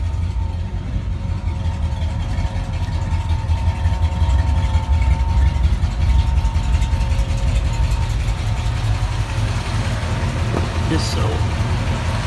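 A 1965 Ford Ranchero engine rumbles loudly and steadily up close, holding a constant low roar with no clear rise in pitch, while a single word is spoken briefly.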